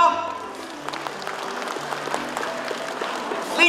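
Crowd at an outdoor tea-town carnival in Nantou, Taiwan, applauds a township sports association chairman: moderate clapping spread across the moment, with sustained musical tones and some crowd murmur underneath.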